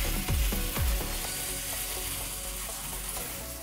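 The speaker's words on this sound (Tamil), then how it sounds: "ஏழு நிமிஷம் இது மாதிரி கலக்க கலக்கி விட்டு வதக்கிக்கோங்க." Brinjal pieces sizzle and fry in hot oil for a spicy Tamil gravy, with a few sharp spoon-against-pan scrapes early on, then a steady close hiss continuing alone.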